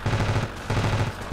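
Rapid automatic gunfire rattles in the video game Ravenfield, a dense, loud burst of repeated shots with a short pause partway through.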